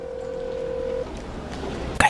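A steady telephone dialing tone holds for about a second, then stops, leaving quiet hiss before a short sharp click or beep near the end.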